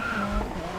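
A car in the mobile racing game Racing Master, a Hyundai Veloster, brakes hard with a brief tire skid over a steady engine drone, loud and close.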